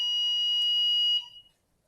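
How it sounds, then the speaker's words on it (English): A fire alarm sounds during an indoor lecture, a loud continuous high-pitched electronic tone with a small dip in the middle that cuts off abruptly near the end, leaving near silence. "that's another risk, a fire alarm"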